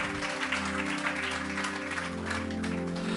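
A church congregation claps together in sustained applause, dense and steady throughout, with a low musical hum beneath it and no speech.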